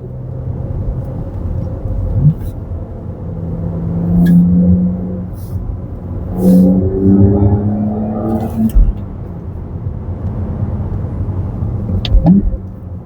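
A BMW Z4 E89 30i roadster accelerates from inside the cabin, its engine rising in pitch through a couple of gear changes with a steady low rumble of road and wind noise behind it.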